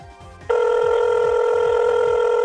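A telephone rings in a steady electronic trill that cuts in abruptly after a short moment and repeats in an even pulsing pattern, loud and close, with no talking over it.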